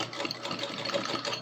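A sewing machine stitches rain chaps at a slow, controlled pace, giving a steady, close whirring hum with a faint mechanical rattle and no voices.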